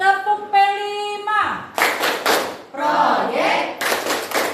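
A group claps in the rhythmic Indonesian scout style called tepuk pramuka, loud bursts of massed hand claps alternating with voices chanting together.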